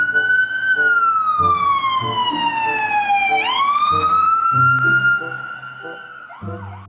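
Toy ambulance siren wails loudly and close, its electronic tone sliding down, then jumping back up and rising, with a few clicks and knocks of handled toys underneath.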